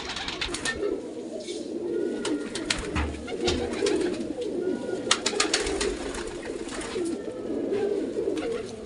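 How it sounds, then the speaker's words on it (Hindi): Pigeons cooing steadily while they peck at scattered rice and millet grain outdoors, soft repeated coos over a busy background of pecking and fluttering. "तो गाइस ये देखो कबूतर दाना खा रहे हैं और चावल भी खा रहे आधे कबूतर"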